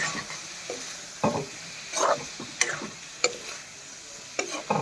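Pork seasoned with turmeric, ginger and garlic stirred in a hot pan: a soft background sizzle broken by irregular scraping and clattering stirs, close and moderately loud, with no talking.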